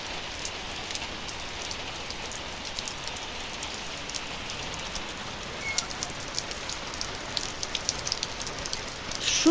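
Steady rain drums on a roof during a day of continuous rainfall, a dense even patter that holds throughout and grows slightly louder near the end, with no voices.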